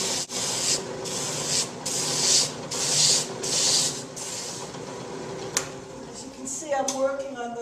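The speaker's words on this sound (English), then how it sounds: "you can use it for simple sanding, as in this straight-sided sample bowl." Hand sanding a straight-sided wooden sample bowl, a steady scratchy rubbing in repeated strokes with brief pauses, close and fairly loud, with a voice talking faintly underneath.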